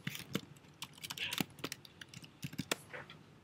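Quick, irregular keystrokes on a computer keyboard as a chat message is typed, light close clicks in short bursts, fairly quiet.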